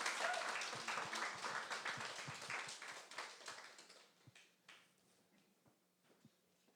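A church congregation at a Sunday service applauds loudly at first, the clapping thinning out and fading to a few scattered claps.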